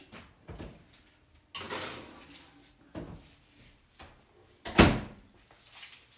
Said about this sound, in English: So all I have to do is just stick this back in the oven